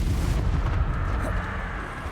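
A blasting curse detonates in the Hogwarts Legacy video game, giving a loud, dense, continuous booming roar that fills the whole moment with low rumble and no voices.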